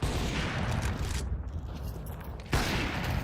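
Rapid auto sniper fire and other gunshots crack in bursts during a professional Counter-Strike match at PGL Bucharest 2025, dense and loud, with a short lull before the shooting resumes.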